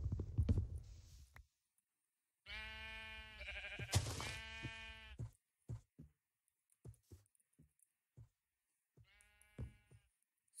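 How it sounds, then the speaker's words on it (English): A sheep in the video game Minecraft bleats in a couple of loud, wavering calls, separated by quiet gaps with soft clicks and taps from gameplay. "Why won't this sheep go away?"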